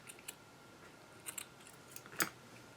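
Scissors cutting through fabric for a plywood craft project, a few short snipping bursts, the loudest near the end, fairly quiet with no talking.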